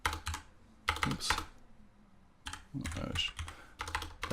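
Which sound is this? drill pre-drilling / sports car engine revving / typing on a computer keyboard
typing on a computer keyboard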